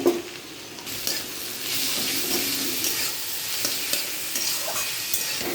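Two green chillies and chopped tomato fry in a pan under a loud, steady sizzle, with a spatula stirring and scraping at intervals throughout.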